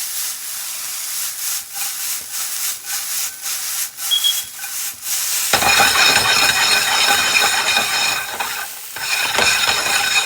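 Spoon scraping and stirring a sauce made with olive oil in a pan, first in soft rhythmic strokes, then over a louder continuous sizzle-like rush, close up with no talking.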